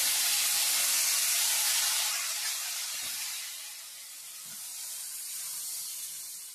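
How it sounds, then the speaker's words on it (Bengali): Bitter gourd frying in a home kitchen pan gives a steady, close hiss of sizzling oil, loudest at the start and easing slightly, with no talking. "করলাটা এখন ভাজা বসিয়ে দেব।"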